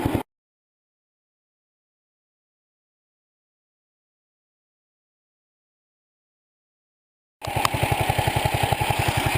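A 1975 Sears Suburban ST16 garden tractor's engine, freshly started with the choke, bursts briefly, goes silent, then settles into a loud, close, steady chugging run.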